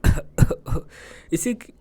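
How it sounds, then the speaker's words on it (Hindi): Several harsh coughs in quick succession, then a pause and a couple more rougher throaty coughs, close and fairly loud. "फुआ कांखती खांसती आई।"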